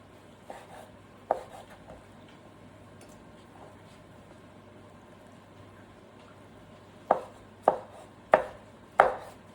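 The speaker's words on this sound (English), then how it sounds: "we want to slice it up" A knife cuts through roasted capsicums on a board, with a few scattered soft chops and then four evenly spaced, crisp knife strikes near the end, close and quiet.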